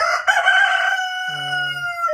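A rooster crows loudly and close by among farm chickens, one long, drawn-out call followed by a lower, steady tone, with no talking.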